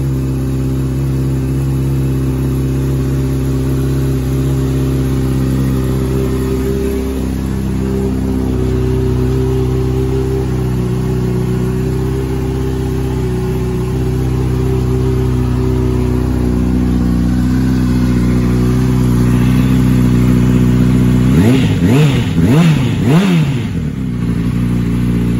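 A 2008 Honda CBR600RR sport bike with an aftermarket exhaust drones in a steady loud idle, then rises in a few sharp revs that climb and fall near the end.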